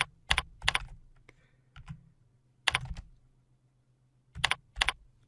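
Bursts of typing on a computer keyboard, clusters of sharp clicks separated by short pauses, close and clear over a low steady hum, with no voices.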